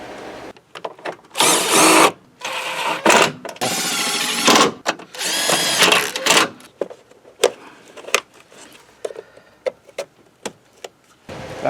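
A power tool runs in several short, loud bursts while tightening engine mount bolts on a 2012 Ford Fusion, separated by quieter pauses with scattered metallic clicks and clanks.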